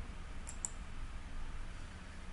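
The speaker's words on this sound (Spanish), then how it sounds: "Damos clic en cualquier punto." Computer mouse clicks while working in AutoCAD, a couple of faint, short ticks early on over a steady low background hum.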